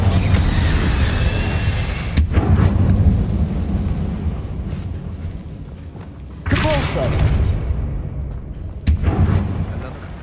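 An Incendio fire spell cast in the Hogwarts Legacy video game, set in a Slytherin-linked dungeon, sounds as loud booming, whooshing bursts that recur several times over a dense rumbling backdrop, with a voice speaking amid the effects.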